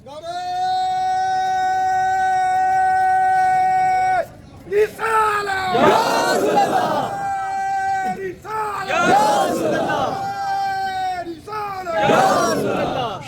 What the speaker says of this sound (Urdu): ایک دفعہ اٹھ کے کھڑے ہو جاؤ نا, دوبارہ نعرہ لگاؤ